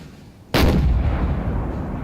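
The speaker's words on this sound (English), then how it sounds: "Oh, we got the sounds of cannon fire already. Look, yep. Good. I think these are my 8-pounders already firing." An 8-pounder cannon fires in the Napoleon Total War 3 battle game: a single sudden, loud boom erupts after a quiet moment, followed by a long rumbling roll that fades slowly.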